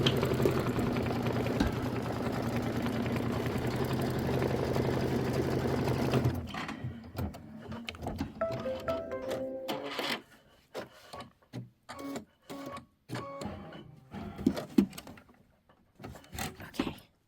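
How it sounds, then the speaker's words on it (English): An embroidery machine stitches a V tack-down line on a quilt, running as a steady, close hum for about six seconds before it stops, followed by scattered clicks, taps and handling noises. "stitch the V tack down line, trim the fabric close to the stitch line"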